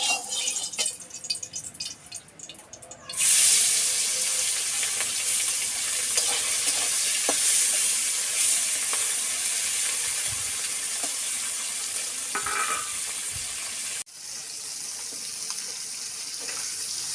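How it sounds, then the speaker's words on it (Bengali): Puti fish sizzling loudly in hot oil in a kitchen pan, a steady bright crackle that starts abruptly, continues with a few stirring knocks and then drops suddenly before carrying on. "পুঁটি মাছগুলো আমি ভেজে নেব।"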